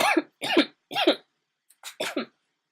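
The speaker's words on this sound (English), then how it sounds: "And I cough in the middle of it" Five sharp, close coughs: a quick run of three, a short pause, then two more.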